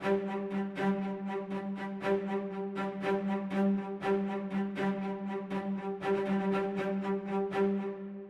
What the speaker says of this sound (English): I've got the same kind of mix with the studio strings doubling the chamber strings